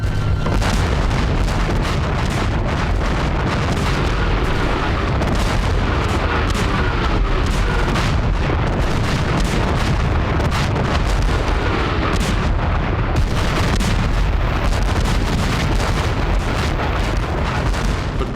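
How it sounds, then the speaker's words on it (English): A relentless barrage of 246 French cannon at Waterloo: heavy booms and blasts overlap continuously, loud and dense, with no pause throughout. "246 French cannon started the bombardment."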